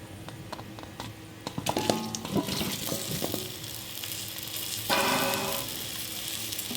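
Raw green mango pieces drop into hot oil with lightly fried spices and sizzle steadily, with stirring clatter and a louder burst of frying partway through, close and continuous, with no voices.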